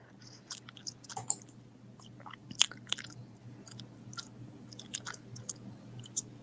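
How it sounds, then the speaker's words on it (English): Someone chewing gum loudly up close, irregular wet smacks and clicks popping out over a low steady background hum, with no talk. "Chewing gum. I know it sounds really loud."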